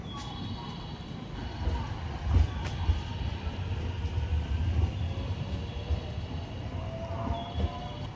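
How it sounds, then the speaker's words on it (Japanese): An electric train bound for Kanazawa rumbles slowly into Takaoka Station, Toyama, in heavy snow, with steady low wheel noise, faint squeals and clanks, and a murmur of voices in the background. "4番乗り場に金沢行きの電車が到着しました"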